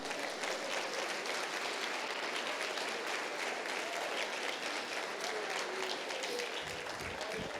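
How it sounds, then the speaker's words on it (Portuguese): A large church congregation applauds loudly and continuously, dense clapping filling the room at a steady level the whole time. "Você pode aplaudir ao Senhor por isso?"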